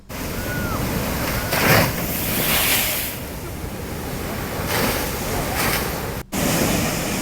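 Water gushes high from the Sitarama project pump motors during a night trial run at PG Kothur, Aswapuram mandal, a loud roaring torrent with wind buffeting and brief dips in the rush.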